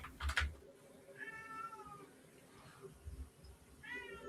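A cat meows several times close up, drawn-out plaintive calls spaced a second or two apart, mixed with faint rustling and thumps in a quiet room.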